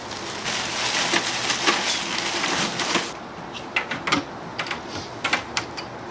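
Ten pounds of regular ice clatters and crunches as it is loaded into the chamber of a budget low-lying fog machine, a dense rattling pour followed by scattered sharp clinks and knocks, close and fairly loud.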